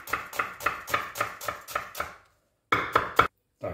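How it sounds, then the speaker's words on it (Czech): Knife chopping an onion on a board for bryndzové halušky: a steady run of about eight crisp, evenly spaced close-up strikes, a short pause, then three more quick chops and one final cut, with no talking. "No a teď si nakrájím cibuli."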